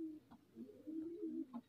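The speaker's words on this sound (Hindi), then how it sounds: "तेज लाल आँख की कसूरी कबूतरी है" A female Kasuri pigeon coos in a steady, low, throaty rolling murmur that runs almost unbroken, close to the microphone, with a couple of brief higher chirps near the end and no talking.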